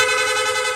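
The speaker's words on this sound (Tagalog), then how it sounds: "Rapid horn." A rapid-fire aftermarket horn on a Yamaha Sniper 155 motorcycle, part of a lights-and-horn package, gives one short, loud, steady blare at close range with no other sound.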